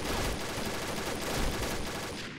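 Rapid, continuous gunfire from the online shooter Combat Arms: a dense, unbroken clatter of shots at steady loudness for the whole short stretch.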